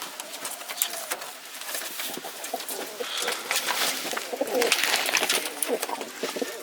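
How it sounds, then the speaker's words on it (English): Pigeons on a farm during a snowstorm give soft cooing calls throughout, set against a steady bed of wind and weather noise with no talk. "all the pigeons are doing good."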